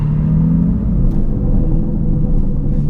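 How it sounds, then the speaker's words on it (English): Heavy, loud rumble from a tuned Aston Martin DBS Superleggera engine, a dense continuous low churn held up close for a few seconds with no talk over it. "You get a bit of turbo spool, a load of cylinders, and some popping and banging out the back."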